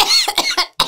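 A single person coughs several times in quick succession, a close, loud burst of harsh hacking coughs with short gaps between them.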